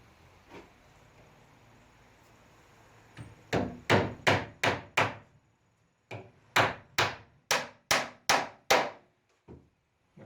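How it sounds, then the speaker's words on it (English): Two bursts of sharp, evenly spaced hammer blows driving nails into wood ring out close by, about five strikes then six more after a short pause. "let's put some nails in this thing"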